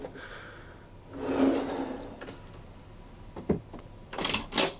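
Cabin drawer on an aluminum-hulled trawler motor yacht sliding open and shut, a wooden rumbling slide followed by a few sharp knocks and clicks, close and fairly quiet, with no talking.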